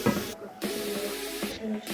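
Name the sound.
onions sizzling in melted butter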